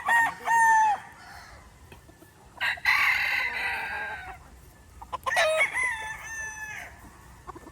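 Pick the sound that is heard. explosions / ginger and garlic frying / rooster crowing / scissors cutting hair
rooster crowing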